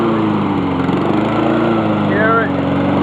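A repaired Honda lawn mower engine runs at a steady idle close by, with a constant droning rumble throughout while a person speaks over it.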